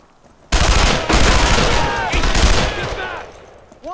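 Rapid bursts of automatic gunfire crackle in the WWII shooter Brothers in Arms: Road to Hill 30, loud and dense after a sudden onset, with shouted battlefield voices mixed in and sporadic shots tapering at the end.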